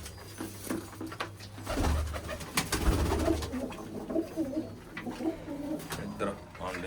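Pigeons coo softly and repeatedly nearby, their low throaty calls layered with other bird sounds and some background noise.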